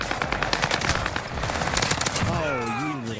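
Rapid automatic gunfire in Call of Duty Warzone rattles in dense close bursts, then trails off as a shot-sounding tone sweeps upward at the end.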